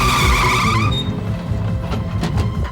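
A car brakes hard to a stop, its tires letting out a loud, close, high screech that fades into rumbling road noise.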